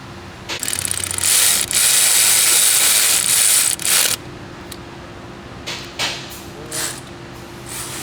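Ratchet clicks rapidly and continuously while tightening a triple square bolt on a 2021 Volkswagen Tiguan engine head, loud and close, then a few short isolated clicks follow.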